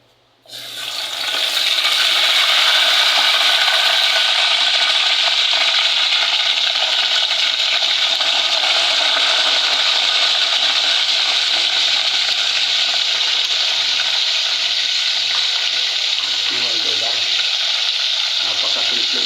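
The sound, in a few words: yellowpin fish tail frying in pan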